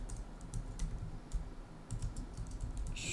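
Keys tapped on a computer keyboard while entering a job into shop management software, a steady run of light clicks with no voices.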